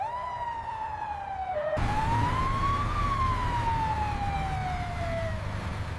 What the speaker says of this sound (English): The siren is starting now.